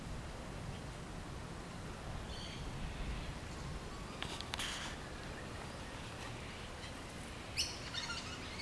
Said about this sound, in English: Plenty of bird life around here